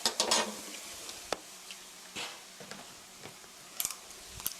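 Soy sauce sizzles in a pan alongside stir-fried kimchi for kimchi fried rice, a soft crackle broken by scraping stirs and a few sharper clinks of utensil on pan.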